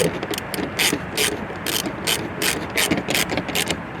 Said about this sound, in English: I just like to tighten them up a little at a time